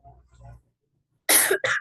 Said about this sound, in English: So I'm going to cough on this session and disturb you all in between